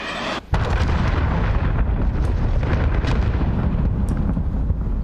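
A cruise missile explosion in Call of Duty Modern Warfare: a sudden heavy blast after a brief lull, followed by sustained loud rumbling and crackling debris that fills the rest of the moment, with no talking.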